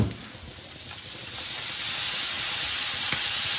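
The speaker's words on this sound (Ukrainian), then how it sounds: "Тепер на середину додаємо вершкове масло" Butter melts in a hot pan for a fried-egg-and-cheese dish, a close, loud hiss that swells within the first two seconds and then holds steady as a continuous sizzle.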